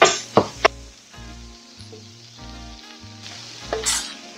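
Homemade Mexican chorizo sizzles in a skillet with a steady, soft frying hiss, broken by a few sharp clatters of a utensil stirring it up close.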